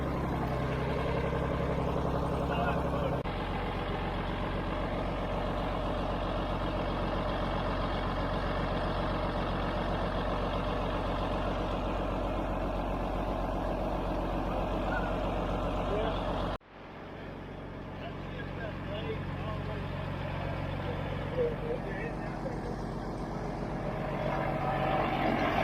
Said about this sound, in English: I mean, it's idling great.